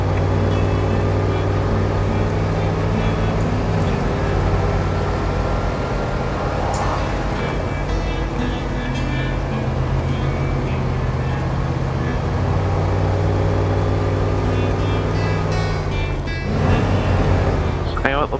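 A Resvani truck in SnowRunner grinds along icy Alaskan roads in low gear, a loud steady engine drone with shifting tonal whine, while someone talks throughout.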